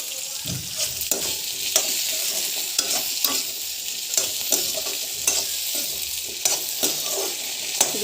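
Tomatoes going into a pan of frying potatoes, a bright continuous sizzle broken by regular scraping and tapping strokes of a spatula, close and fairly loud with no talk.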